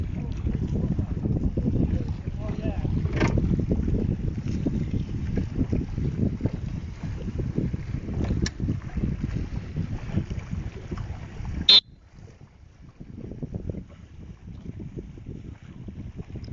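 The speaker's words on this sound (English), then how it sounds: "We're getting a little bit more wind now." Wind gusting across open water during a sailing race, a low blustery rumble buffeting the microphone, heavy for most of the stretch then suddenly dropping to a quieter hiss near the end.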